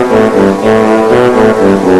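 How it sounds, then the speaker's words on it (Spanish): A tuba plays sustained low brass tones, several held notes in succession with slight swells between them, loud and close with no talk. "Esta es una tuba y suena así."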